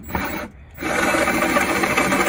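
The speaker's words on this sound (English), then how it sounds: "I'm just gonna follow it up with a quick drill with the 5/16." A power drill with a 5/16 bit bores into aluminum, a steady close whirring grind that pauses briefly and then resumes continuously.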